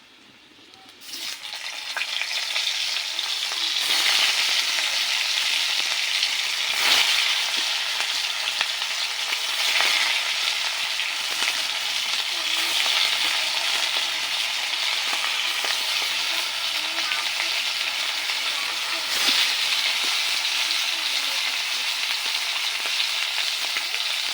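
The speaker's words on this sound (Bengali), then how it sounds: "এই মাছের মাথাগুলো ভেজে নিয়ে নিচ্ছি" Fish heads frying in hot oil in a home kitchen produce a steady, close sizzle that holds for the whole stretch, with occasional stirring scrapes and spatters over it.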